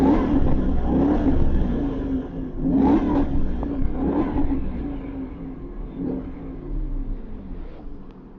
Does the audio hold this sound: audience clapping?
no